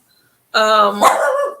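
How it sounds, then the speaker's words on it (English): Pet dog, a puppy, giving one close, loud, drawn-out bark after a moment of silence. "There's my puppy dog."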